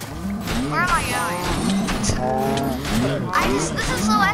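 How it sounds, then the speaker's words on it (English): Cows mooing in the Minecraft Dungeons video game, several drawn-out moos rising and falling across the clip over a busy game soundtrack, fairly loud and close. "is there cows? Okay, there is cows."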